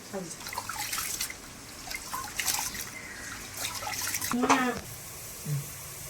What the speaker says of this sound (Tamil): இந்த பிரியாணி அரிசி வந்து ஒரு ரெண்டு மூணு வாட்டி நல்லா கலைஞ்சி தண்ணியை தூர வச்சுக்கலாம்